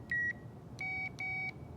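A Power Probe electrical circuit tester gives three clear high-pitched beeps, one short and then two longer ones, ringing out alone against a quiet background hum.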